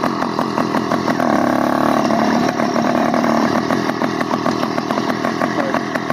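A stock 66/80cc Screaming Demon two-stroke gas engine on a motorized bicycle revs and buzzes loudly up close, its raspy drone steady with slight rises and dips.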